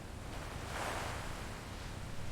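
Water churns continuously in a leather tannery vat, a dense, steady wash of rushing and sloshing noise with a slight swell midway, alone with no voices.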